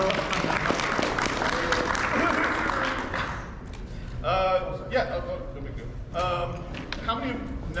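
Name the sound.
audience applause at a convention panel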